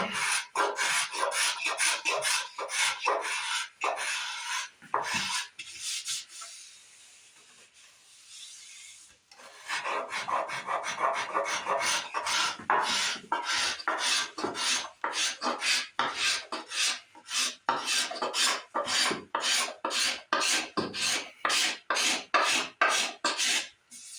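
Rasping and filing strokes carve the recurve into the wooden body of a 1950s replica Goldtop Les Paul, a steady run of rhythmic, close scraping passes with a brief pause partway through.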